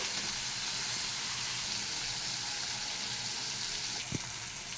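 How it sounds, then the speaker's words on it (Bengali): Masala spices sizzle and fry steadily in a pan with kasuri methi, a continuous hissing crackle with one faint clink near the end. "মশলাটা খুব ভালো করে কষা হবে। এর থেকে কষা হতে হতে আমি দিয়ে দিচ্ছি একটুখানি কসুরি মেথি।"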